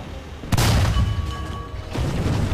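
A single heavy tank cannon shot in War Thunder fired from a T29, M46 or M26 tank, a loud sudden boom followed by a rumbling tail and engine drone.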